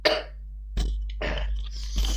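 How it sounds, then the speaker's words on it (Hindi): A person coughs during an electrical engineering lecture: a sharp burst at the start, then several more rough coughing bursts over a steady low hum, close and fairly loud, with no speech. "खांसी आ रहा है"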